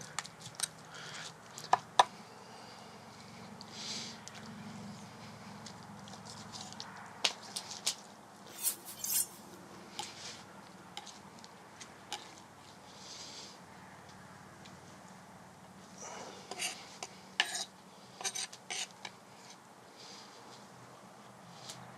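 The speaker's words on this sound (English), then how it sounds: "Just Kind of scrape all that excess meat off of the bone." A knife scrapes dark meat off a cooked turkey bone during an outdoor cooking lesson: quiet, sporadic scraping and squishy, wet sounds with occasional sharper clicks, close by, spread over a long stretch with no talking.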